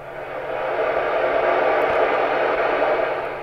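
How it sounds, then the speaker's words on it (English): A Yaesu FT857 radio with the squelch open gives off a steady hiss of white noise that swells in, holds at moderate loudness for a few seconds and then eases off slightly. "Now radio has a natural noise that sounds a bit like this."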